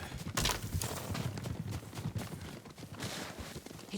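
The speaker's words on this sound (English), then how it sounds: "Horses, they're coming for us." Horses approach in Ghost of Tsushima, a faint, muffled rumble of hooves pounding at a quick running pace under a dense, noisy ambient bed, with no voices.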